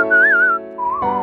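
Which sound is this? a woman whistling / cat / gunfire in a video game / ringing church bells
a woman whistling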